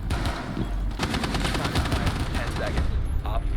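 Rapid automatic gunfire in Rainbow Six Siege, dense bursts of shots crackling continuously from start to end, with players talking faintly underneath.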